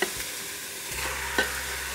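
Lamb sautéing in an Instant Pot for a stew gives a brief, close sizzle with a couple of stirring clatters.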